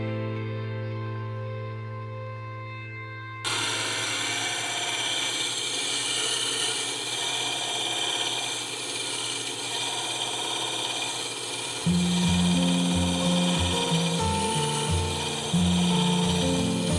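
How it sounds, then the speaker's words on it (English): A gemstone faceting machine grinds crown facets on a stone, a steady whirring hum that becomes a denser continuous grinding after a few seconds, with a rougher, pulsing scrape near the end. No one speaks. "I'm cutting the first of the crown facets."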